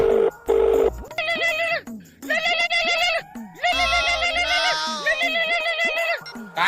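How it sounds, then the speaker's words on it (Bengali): A mobile phone rings nearby with a loud musical ringtone: bright, repeating electronic melody phrases in short bursts with brief gaps, filling the whole stretch. "তোর মোবাইলত ফোন আছে রে"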